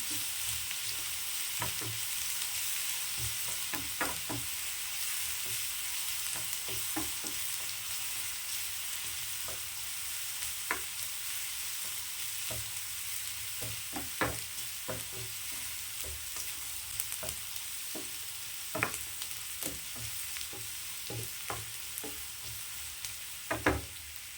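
Ingredients for a village-style goat leg curry frying in oil until browned, a loud continuous sizzle with regular spoon scrapes and clacks against the pan, close and steady with no talk.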